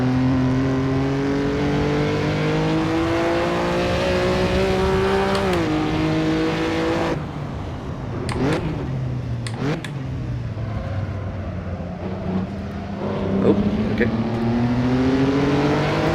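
A Vanwall VW5 race car engine in the game Assetto Corsa drones loud and steady with rising and falling revs, a sharp drop at a gear change, and brief squeals and bumps midway before climbing again.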